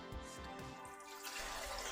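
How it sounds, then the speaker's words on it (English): Fresh water runs into the removable water tank of a Nespresso Vertuo Pop coffee machine during descaling, a close trickle and splash that grows fuller and brighter as the tank fills. "Then fill the water tank with fresh water."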